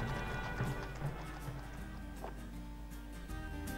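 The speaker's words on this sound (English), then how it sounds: "Horses are used by the army on ceremonial occasions, such as this one at Buckingham Palace." Army horses at a ceremonial occasion at Buckingham Palace make a faint, continuous clip-clop of hooves, heard at a distance under a steady background hum.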